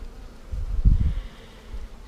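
A small swarm of honeybees buzzes close by, a low droning hum that swells into a louder burst of overlapping wingbeats before fading back to a quieter drone.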